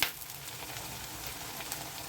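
Chopped onion with garlic paste frying in a pan for a Bangladeshi dried-fish dish, a steady close sizzle lasting about two seconds with a brief stir clink at the start.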